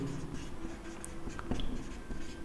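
Steady scratchy writing on a board during a class 10 maths lesson, continuous and close over a low room hum, with no talk.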